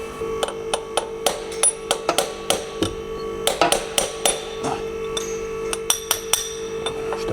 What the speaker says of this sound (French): tu me mets 3 coups de marteau, ça repart